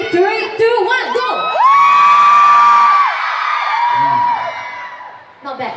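A fan crowd at a singer's mall appearance in Singapore lets out a loud burst of cheering, whoops and high-pitched yells, swelling and sustaining for a few seconds before trailing off.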